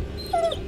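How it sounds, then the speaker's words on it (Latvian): Angry dog growling in the video game The Devil in Me, a brief low snarl with a short whining rise, close and moderately loud. "Suns dusmīgs."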